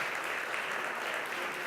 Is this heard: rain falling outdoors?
no